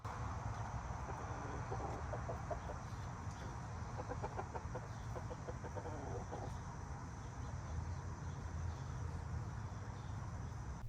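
A frustrated rooster makes low, faint grunting and gurgling clucks in short pulsing bursts, heard over a steady background hum in a chicken run.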